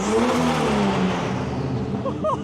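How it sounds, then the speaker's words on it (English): A turbocharged Jeep Wrangler engine with a custom exhaust revs up past 2700 rpm with a raspy exhaust note, a close, loud droning rise with whistling overtones near the end. "after you get it past the 2700 mark where you got that little bit of rasp, kind of sounds like an inline six turbo car"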